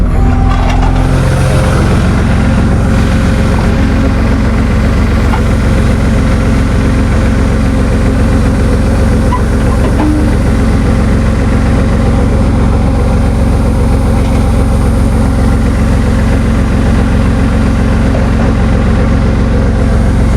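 A truck engine idles with its power take-off engaged, a loud, steady, low mechanical drone that holds unchanged from start to finish.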